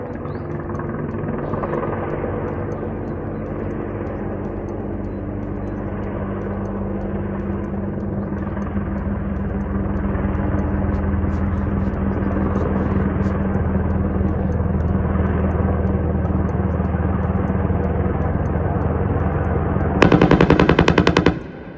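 A helicopter near Jenin fires a machine gun: a long, continuous rotor and engine roar with rapid, dense bursts of gunfire running throughout, then a sharp, louder burst of fire near the end.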